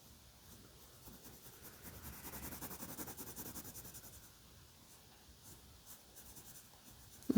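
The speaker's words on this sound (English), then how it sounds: "So I'm just coloring in that handle with the brown color." A colored pencil steadily shades brown onto paper, a soft, continuous scratchy rubbing in short back-and-forth strokes, faint and close with no talking.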